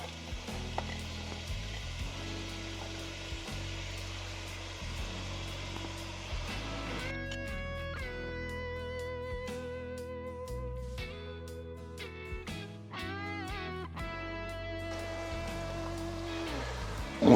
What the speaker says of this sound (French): Et ail et oignon à suer pendant 10 minutes.